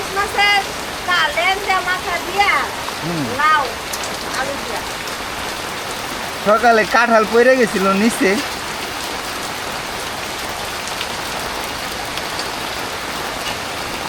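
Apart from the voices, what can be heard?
heavy rain in the village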